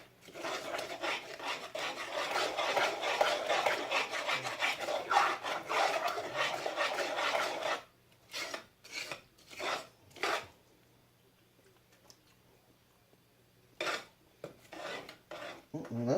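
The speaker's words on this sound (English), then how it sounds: "we're going to mix this all together" Peanut butter, brown sugar and butter for fudge being mixed by hand in a pot, a dense rasping scrape for several seconds, then scattered separate strokes with quiet gaps, close and alone.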